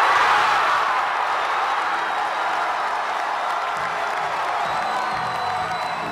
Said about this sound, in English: You heard the oohs and ahs from the crowd at how close that victory was